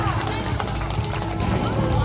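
Steady, dense applause from a crowd at a prize distribution ceremony, continuous and fairly close throughout, with voices talking over the clapping.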